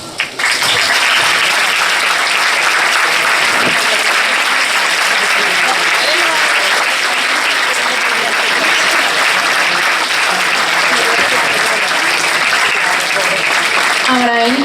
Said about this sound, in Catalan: volem que torneu a escoltar un fortíssim aplaudiment dels amics de la